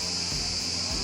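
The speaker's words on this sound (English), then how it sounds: "noise for cicadas or crickets, whatever they are." Cicadas or crickets drone in a steady, continuous high buzz around a boat moored in a quiet bay in Turkey, with a faint low rumble underneath.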